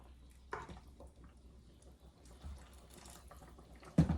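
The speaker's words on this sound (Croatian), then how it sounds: "I sad ću dodati vruće vode" Hot water is poured into a pot over a fried potato mixture for potato soup, making a quiet, intermittent splashing trickle. A sharper clunk comes near the end.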